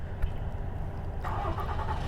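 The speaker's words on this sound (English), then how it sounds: "everybody's starting their engines" Vehicles starting their engines while waiting in a stopped traffic queue on a road in the American West, heard as a low rumble with an engine catching and rising partway through, fairly distant and without talk.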